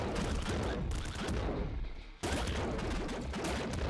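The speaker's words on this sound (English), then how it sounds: "which means we get two explosions" Dense, continuous barrage of explosions and gunfire from the roguelike video game Nuclear Throne, with bouncing projectiles detonating twice, loud and sustained for the full stretch, with a brief dip before the blasts resume.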